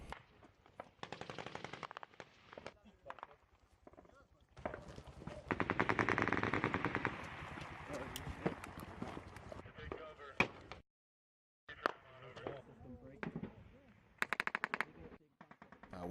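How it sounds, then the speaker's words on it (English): Machine gun and small arms fire crackle in bursts during a firefight between Marines and the Taliban, loudest in a sustained stretch near the middle. Voices talk over the shooting throughout, and the sound cuts out briefly toward the end. "we were taking effective machine gun fire, as well as some small arms fire from those buildings"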